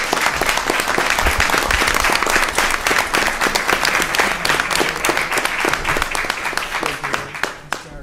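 Sustained applause from the audience at a town select board meeting, steady dense clapping throughout, loud and continuous with some individual claps standing out near the end.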